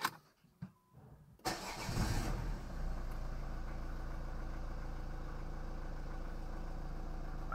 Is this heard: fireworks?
no